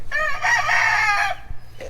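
An Americana rooster crows a single loud, close cock-a-doodle-doo, a drawn-out harmonic call lasting over a second, with a faint rustle after it.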